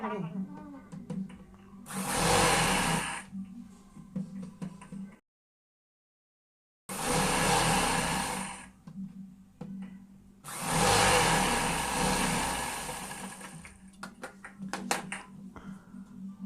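An electric sewing machine stitches a lined suit, its motor whirring in several bursts with a complete silence between two runs. The sound is close and steady, and a voice can be heard faintly.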